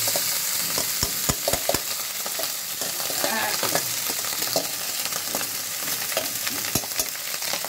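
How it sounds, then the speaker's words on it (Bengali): Rice with potato and cauliflower for a vegetable biryani fries and is stirred in a pan on a lowered gas flame, giving a steady close sizzle with repeated scraping and knocking of the spoon. "গ্যাসটা কমিয়ে এটা ভাত নেড়ে নিচ্ছি।"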